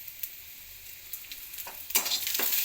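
Black peppercorns, cumin and fenugreek seeds frying in oil with garlic, a faint steady sizzle at first, then louder crackling bursts and scraping toward the end, close to the pan.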